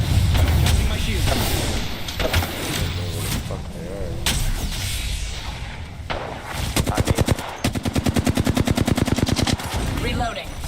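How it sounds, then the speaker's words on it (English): Rapid gunfire in the video game Apex Legends, with bursts of single shots early and a fast automatic volley later, loud and close, mixed with other game sounds. "They're shooting at me."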